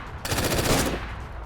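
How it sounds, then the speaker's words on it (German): Rapid automatic gunfire in the survival game DayZ, a sustained burst of shots lasting under a second, loud and close, with no talk over it. "Mich wird geschossen."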